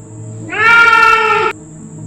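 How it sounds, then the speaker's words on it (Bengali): A single drawn-out cat meow, loud and close, lasting about a second against a quiet background. "বিড়ালটার আওয়াজ"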